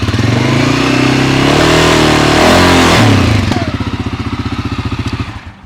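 A 2023 CFMOTO CForce 600 ATV engine revs hard under throttle, its loud close rising drone climbing in pitch, then dropping to a pulsing, bouncing idle-like rhythm as the throttle eases off.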